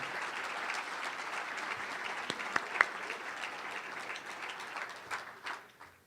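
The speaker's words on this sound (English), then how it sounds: "let's give them a round of applause" A seated audience applauds elected officials and their staff at a county event, steady moderate clapping with a few sharper individual claps, tapering off at the end.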